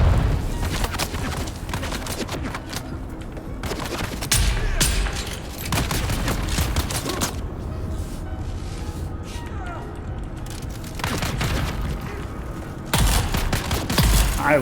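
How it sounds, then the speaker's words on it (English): A shell burster shotgun, an incendiary weapon in a desert PvP dungeon video game, fires repeated loud, booming blasts in bursts amid busy game combat noise, with a voice talking over it. "I love this shotgun."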